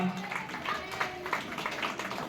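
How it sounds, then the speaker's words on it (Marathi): Applause at a Ganesh festival felicitation ceremony at Konark Gardens comes as a light, scattered patter of claps mixed with voices and some background sound. "जोरदार टाळ्या त्यांच्यासाठी सुद्धा"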